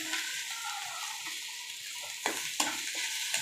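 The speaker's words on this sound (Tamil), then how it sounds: "ஸோ கல் உப்பு போட்டுட்டு நல்லா வதக்கிக்கலாம்" Masala with rock salt being stirred and sautéed in a pan for chicken curry dosa, a steady soft sizzle with a few sharper clinks of a spoon against the pan near the end, no talking.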